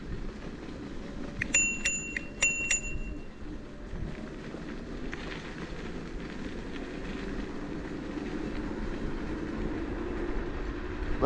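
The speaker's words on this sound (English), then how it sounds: "Literally, I used my bell" A bicycle bell on an electric scooter rings in a few quick bright dings early on, clear over steady rolling and road noise outdoors on a trail.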